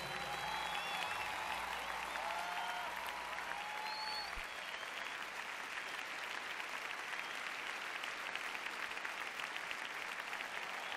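A congregation applauds at a worship concert with steady, dense clapping that holds evenly throughout, while faint voices call out over it.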